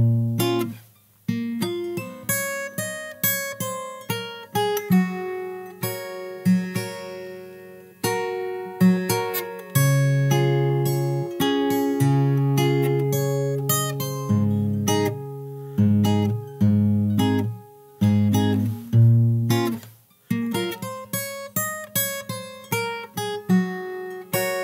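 Solo fingerstyle guitar plays the first verse of a song, plucked melody lines and bass notes in phrases with brief pauses, close and clear with no speech.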